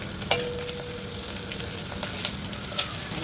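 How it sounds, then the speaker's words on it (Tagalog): Lamb meat sautéing in a hot pan for soup, a steady close sizzle broken by scraping stirs and small pops, with no voices. "Pwede na natin ilagay yung ating meat."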